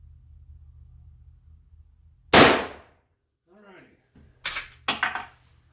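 A Marlin 1894 lever-action rifle in .357 Magnum fires cast-bullet loads outdoors: one loud sharp shot, a quiet pause with faint talk, then two more shots close together.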